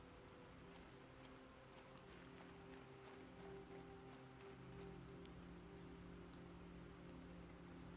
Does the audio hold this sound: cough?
no